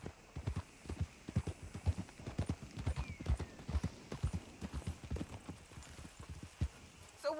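Horse hooves trotting in the video game Red Dead Redemption 2, a steady rapid clip-clop rhythm of close, distinct hoof strikes that continues throughout at a quiet level.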